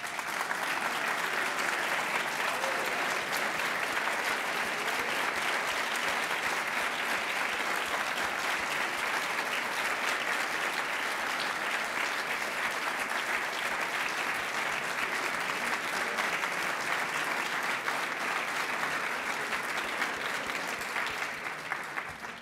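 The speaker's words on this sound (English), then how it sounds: "we want to give you a round of applause" A large audience at a school event gives a long, sustained round of applause, steady and dense throughout, with no speech over it until it trails off at the very end.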